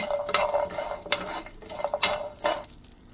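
Garlic is fried in a pan for a Mangalorean mussel sukka masala, with a soft sizzle under several distinct scraping strokes of a spoon stirring it, fairly quiet and with no voices.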